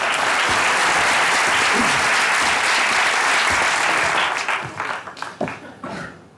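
A television comedy show's studio audience bursts into sustained, loud applause as an education minister is called to the stage, the clapping thinning into scattered claps in the final seconds.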